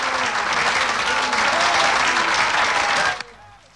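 A theatre audience at an operetta performance claps loudly and continuously, a dense burst of applause that stops abruptly near the end.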